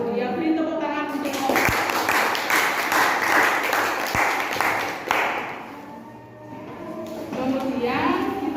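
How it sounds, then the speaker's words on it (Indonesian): Classroom audience applauding after a group presentation, a burst of clapping in the middle that mixes with talking voices before and after. "Ya, beri tepuk tangan untuk"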